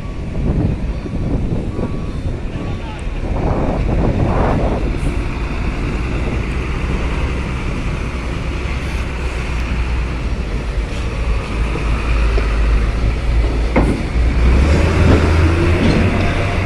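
Heavy trucks rumble and grind as they load onto a ferry at Bakauheni port, with a low, continuous engine roar, passing clanks and a deeper surge toward the end. Faint voices sit underneath.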